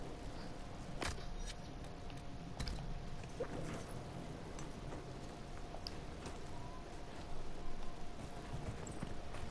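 Horse hooves in the video game Dragon Age Inquisition, a faint, steady clip-clop of walking steps against a soft ambient background.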